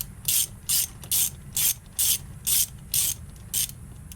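A ratchet with an 8mm socket loosens bolts on a 185 or 200 three-wheeler, giving about eight even, evenly spaced bursts of sharp clicking at close range, with no talk.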